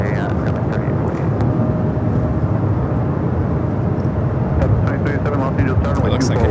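Airliner taking off from runway 24 left at LAX, a loud steady jet engine roar close by with broad rumble, under airport radio voices.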